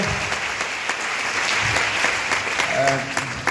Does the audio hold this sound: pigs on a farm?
no